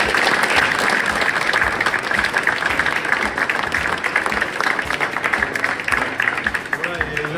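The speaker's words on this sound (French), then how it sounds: "je peux l'applaudir" A crowd at the opening of a new boxing gym gives steady, dense applause that holds for several seconds, with voices audible underneath.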